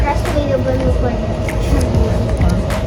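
Steady low rumble and rattle of a metro train car from the airport in Poland in motion, loud and continuous, with a faint voice under the noise.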